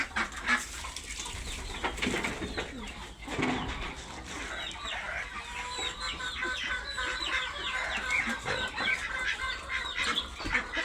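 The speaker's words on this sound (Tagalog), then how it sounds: "Ito naman po tayo sa mga nakakulong na mga itik" A busy flock of penned ducks quacking and clucking over several seconds, with overlapping calls from many birds nearby.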